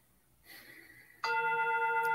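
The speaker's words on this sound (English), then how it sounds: "And when I'm done, the chime sounds" A meditation chime strikes once after a faint lead-in, ringing out bright and clear with a long, sustained metallic tone that holds to the end.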